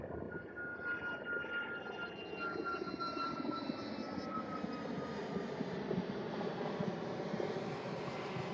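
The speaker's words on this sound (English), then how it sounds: "Ryanair 737 there" Ryanair Boeing 737 airliner at East Midlands Airport, its engines roaring steadily and loudly throughout with a broad jet rumble and a high whine, heard alone without talk.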